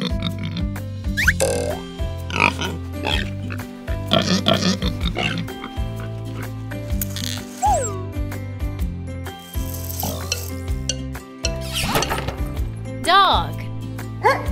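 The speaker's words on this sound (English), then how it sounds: "Pig." Pig oinks and grunts repeat over a steady musical backing, with a voice chiming in now and then.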